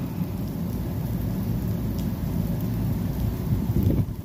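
Steady rain with a deep, continuous rumble of thunder, loud and enveloping, with a brief brighter crack near the end and no talking.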